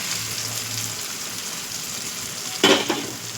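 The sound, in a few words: egg stirred into frying masala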